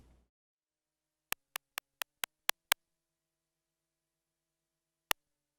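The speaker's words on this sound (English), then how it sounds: "So let's hear the stick noise on its own" Seven sharp, clicky synthetic ticks from a Vermona Perfourmer synthesizer, a sine wave with heavy downward pitch sweep, in quick even succession, then silence and a single final click, dry and isolated.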